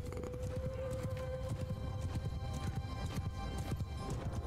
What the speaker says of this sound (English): Looks like a lot of our horses are just getting, just running into their infantry at this point